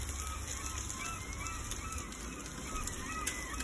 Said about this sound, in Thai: บรรยากาศเสียงเป็ดน้ำ